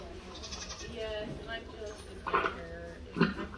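Goats bleating in a show ring at a district fair, two short calls rising above a steady murmur of crowd chatter and nearby talk.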